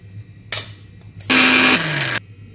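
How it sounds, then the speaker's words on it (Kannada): A kitchen mixer grinder blends boiled palak (spinach) for palak rice, starting with a short whir, then a loud, high motor roar for about a second that drops in pitch before cutting off. "ಇದನ್ನು ಇದು ಮಿಕ್ಸಿ ಮಾಡ್ಕೊಂಬಿಡೋಣ್ರಿ"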